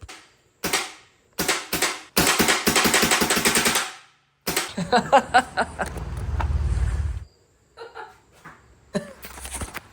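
Motorcycle-mounted paintball gun firing in several rapid bursts of sharp, close pops, broken by brief pauses and a rumbling mechanical stretch.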